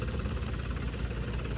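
A New Holland tractor engine fitted with a turbo idles close by, a steady low rumbling chug with constant loudness and no talk.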